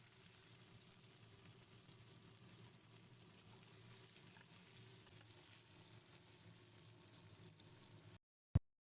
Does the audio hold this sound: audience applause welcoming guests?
no